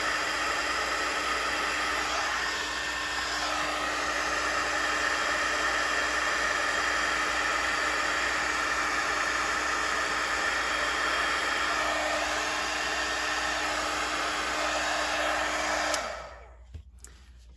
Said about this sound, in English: heat emboss this